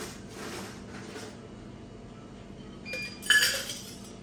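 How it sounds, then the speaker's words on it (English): Ice scooped into a cocktail shaker for a piña colada: a low, quiet room hum, then a short burst of bright clinks and rattles near the end. "so we got our shaker, and part one we add the ice"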